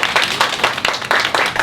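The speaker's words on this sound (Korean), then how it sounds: "자, 박수." Brief burst of applause for a senior baker being introduced to trainee bakers, several people clapping close by in dense, steady rhythm with no talk over it.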